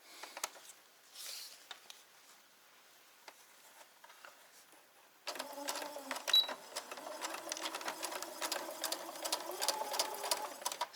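A sewing machine stitches bed sheet fabric into a shopping bag. There are a few faint taps, then the motor starts midway and runs steadily with a rapid mechanical patter, close and moderately loud.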